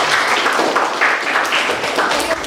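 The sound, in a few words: class applauding the presenting group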